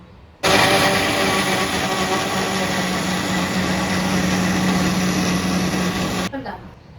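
A kitchen mixer blends a chikku (sapodilla) shake with chocolate Horlicks, a loud steady motor whir that starts abruptly, runs for about six seconds and cuts off.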